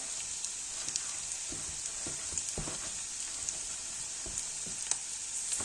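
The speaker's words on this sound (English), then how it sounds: "As you can see, I just have enough oil to coat the onions so they can fry." Onions frying in a thin coat of oil for eru give a steady, soft sizzle with scattered small pops and light stirring taps throughout.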